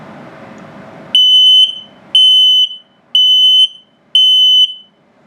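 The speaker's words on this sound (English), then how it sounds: "So if it detects carbon monoxide or LP gas, it'll alert you" RV carbon monoxide and LP gas detector alarm under test, sounding four loud piercing beeps in an even rhythm, each about half a second long with short gaps between.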